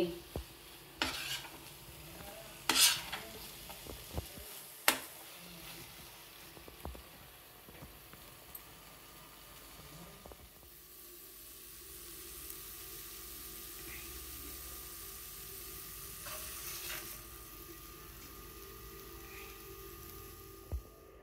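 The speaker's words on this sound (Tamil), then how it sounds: "இதையும் சேர்த்து நல்லா கிளறிக்குவோம்" A spoon stirs thick beetroot halwa in a pan, quiet scraping and soft clinks, with a few sharper knocks early on and a low, faint cooking hiss through the rest.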